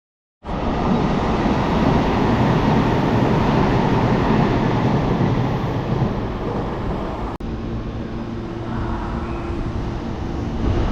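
A steady, loud rumble of a Japanese subway train running continuously, with a brief click partway through and the roar easing slightly afterward.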